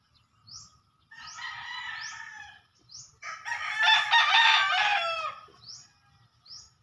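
A rooster crows again and again between bursts of clucking, loud and close, with faint high chirps from other birds and no one talking.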